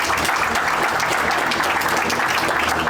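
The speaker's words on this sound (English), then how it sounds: "you can applaud him." Audience applause at a Montgomery County ribbon cutting in Forest Glen, a dense, steady wash of many hands clapping close by and at full volume throughout, with a little speech underneath.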